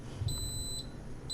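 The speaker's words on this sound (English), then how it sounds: "And then listen for the beep." Just after a timer is set, an electronic device gives short, high-pitched beeps, clear but fairly quiet over steady low background noise, with a sustained tone between them.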